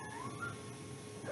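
A pet cat meows softly a couple of times, faint and close, with rising tonal cries over a steady low room hum and no talk.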